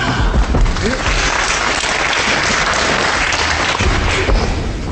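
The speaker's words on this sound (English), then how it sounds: "the crowd here at Bedford obviously knowing that Boscik tries those moves, and even before he thought of it then, they were shouting no" Wrestling crowd at Bedford roaring and shouting throughout a bout between Zoltan Boscik and John Coretz, a dense, loud, continuous hall din with no clear gaps.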